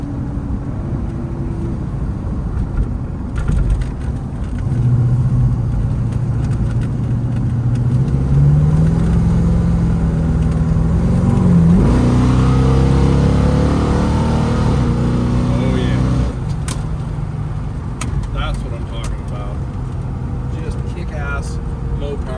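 A 1972 Plymouth Roadrunner with a Mopar 440 six-pack engine on the road, a low steady drone rising as it accelerates and easing back, heard inside the car under continuous talking.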